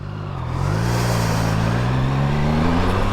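A 2022 Triumph Tiger Sport 660 motorcycle pulling away on the road: a loud, steady engine drone that swells in the first half-second and then climbs gradually in pitch as the bike accelerates, with no speech.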